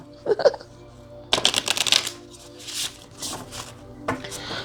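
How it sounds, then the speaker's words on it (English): Tarot cards are shuffled in a few quick riffling bursts with soft papery flutters, followed by quieter handling and rustling of the deck. "you give it a nice shuffle here"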